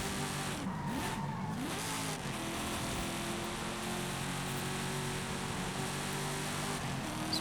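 Audi race car in Forza Horizon, engine revving and droning steadily throughout with rising and falling pitch sweeps under a constant roar, loud and close, no talking.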